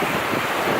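Surf and wind at Sandown Beach on the Isle of Wight, recorded from in the water, a loud broad wash of waves and gusting air with wind buffeting the microphone, steady throughout and without voices.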